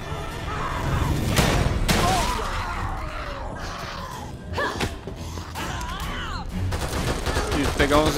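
Machine-gun bursts in The Evil Within 2, a survival horror game, crackle through a busy combat scene, with rapid volleys and impacts mixed with grunts and gasps over a continuous low rumble.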